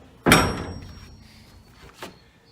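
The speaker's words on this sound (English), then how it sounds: "I'm shutting the door to the container" A steel shipping container door is shut with one loud, heavy slam, followed by a fading metallic ring and a smaller clunk from the locking bar, with no talk.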